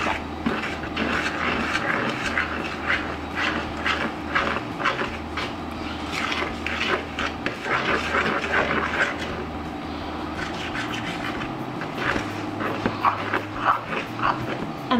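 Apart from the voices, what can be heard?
whisking cake batter ingredients together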